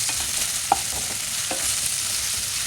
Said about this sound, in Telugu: కొద్దిగా పుదీనా కూడా, కొత్తిమీర వేసి దీన్ని బాగా ఫ్రై చేసుకోవాలి.